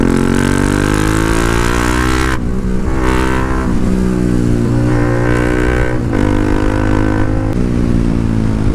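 A loud superbike engine revs up and down repeatedly at close range, its pitch climbing through each burst before dropping back between gear changes.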